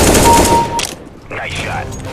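Rapid burst of Counter-Strike gunfire, loud and close, followed by a shorter pause and further weapon sounds as voices talk over the action.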